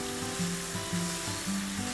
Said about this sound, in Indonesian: Saatnya kita tumis bumbu yang sudah kita haluskan tadi ya.